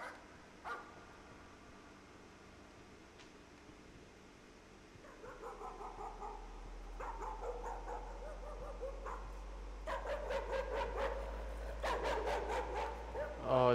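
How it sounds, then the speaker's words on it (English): A dog barks repeatedly in the horror video game Layers of Fear, distant at first then growing louder and more insistent with a rising low drone beneath. "Why is there a dog barking?"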